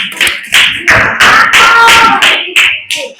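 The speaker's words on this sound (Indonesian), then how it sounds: "Kita kasih tepuk tangan buat kelompok" Classroom audience of students clapping in loud, close bursts, about eight rhythmic waves of hand claps in quick succession, some voices mixed in.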